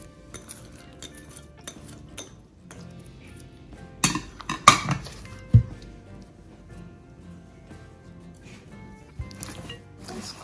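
Chicken pakora batter with chopped onion and green coriander being stirred and mixed in a bowl, with clinking utensil-on-bowl knocks and a few louder scrapes around the middle, quiet and close with no talking.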